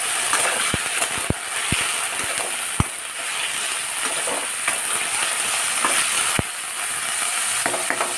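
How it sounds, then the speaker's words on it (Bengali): Vegetables sizzle loudly in a hot pan, a constant crackling hiss broken by sharp clicks and taps of a utensil against the pan. "একটু ঢাকা দিয়ে ভেজে নিই, যাতে সবজিগুলো একটু বয়েলড হয়ে যায় আর একটু ভাজা ভাজাও হয়ে যায়।"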